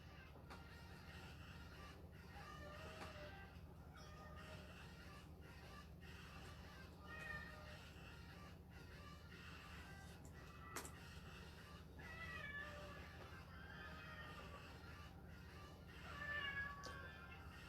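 A house cat meows repeatedly indoors, fairly faint and intermittent over a steady low background hum, with a few louder calls near the end.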